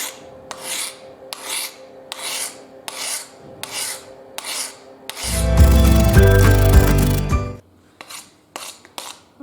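Hand shears are sharpened by hand, with rhythmic rasping strokes along the blade edge repeating about once a second, close and clear, interrupted by a louder, sustained grinding scrape for a couple of seconds before the strokes resume.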